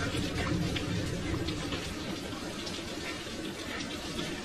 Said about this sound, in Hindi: इतनी देर से बारिश आ रही है, रुकने का नाम ही नहीं ले रही।